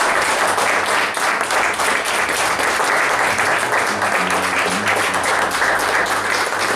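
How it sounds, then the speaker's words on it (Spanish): A church congregation at a special worship gathering claps steadily and loudly, sustained dense applause filling the space for several seconds with a faint musical drone beneath. "Voy a dar una ofrenda de palmas a nuestro Padre Celestial."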